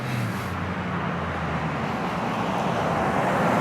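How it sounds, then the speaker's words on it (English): Cars drive back and forth along a road, making a steady, fairly loud wash of broadband traffic noise with a low rumble that grows slightly toward the end. "As you see, I got some traffic running back and forth."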